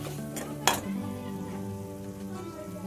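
Boiled cauliflower stirred into thick gravy in a pan for gobi matar bhaji, a soft steady sizzle with a couple of sharp spoon-on-pan clanks near the start.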